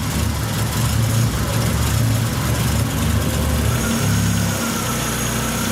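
A Ford engine idles roughly nearby, a loud low rumble with an uneven, lumpy pulse through the low end and no talk over it.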